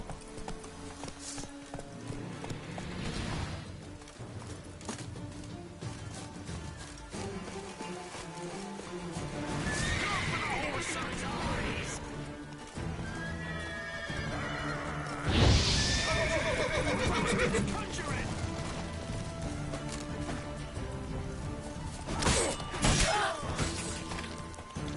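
Geralt's horse Roach in The Witcher 3, several loud whinnies and snorts over steady clip-clop of hooves, with occasional thuds and crashes mixed in throughout.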